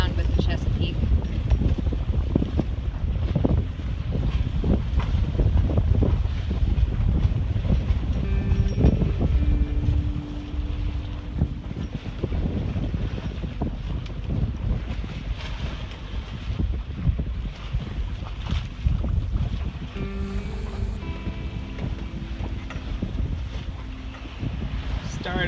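Strong wind buffets the microphone aboard a sailboat on the Chesapeake in rough weather with reefed sails, loud continuous roar and rushing water slapping the hull, with occasional creaks and a voice briefly audible beneath.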